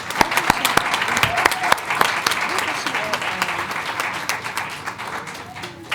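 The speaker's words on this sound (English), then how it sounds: "Let's give her another round of applause." Sustained round of applause from an audience at a school board meeting, with many overlapping claps forming a steady wash. Sharp individual claps stand out near the start, and the applause gradually thins toward the end.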